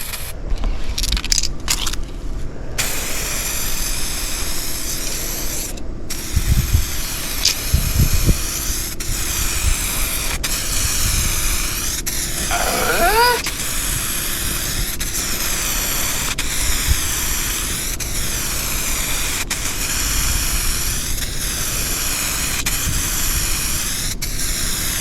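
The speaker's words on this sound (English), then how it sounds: "Just watch how we spray and it'll do good." Rust-oleum matte 2K clear aerosol paint sprayed from a can in a long, steady, close hiss, broken by a few brief pauses and small clicks near the start.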